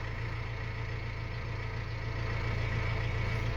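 A truck with a dual-clutch transmission, restarted from its starting gear, runs at a steady low idle, a constant close engine drone with an even hum and no change in pitch.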